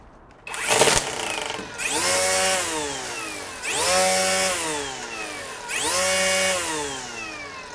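DeWalt battery-powered string trimmer with a Quickload head, revving up in three separate bursts with whining motor and line whir, each rising sharply then winding down, close and loud with no talk.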